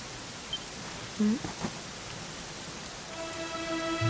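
Steady rain falls in the Dragon Quest XI game world, a continuous soft hiss of drops, with a faint musical tone and low rumble coming in near the end.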